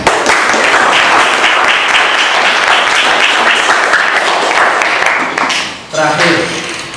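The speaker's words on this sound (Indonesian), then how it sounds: "tepuk tangan buat kalian semua" A classroom group claps together at the end of a guidance session, a dense steady wash of hands for about six seconds before a brief dip and a final burst, with a voice briefly over it.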